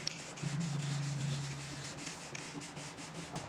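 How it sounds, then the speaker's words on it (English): Wet sanding on the body panel of a 1972 VW Super Beetle: steady back-and-forth rubbing strokes, close and moderately loud, with no talking. "With wet sanding, it gets all the little scratches from the other sandpapers out of it"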